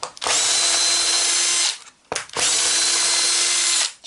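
A cordless screwdriver drill removes screws while an X-Maxx RC car is taken apart. Two loud, steady whirring bursts of about 1.5 seconds each are separated by a brief pause, with a close, high motor whine.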